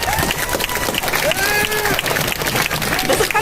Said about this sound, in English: I don't know if I like the clapping because I feel like I'm at a concert